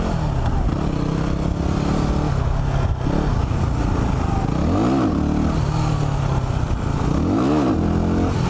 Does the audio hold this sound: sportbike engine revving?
yes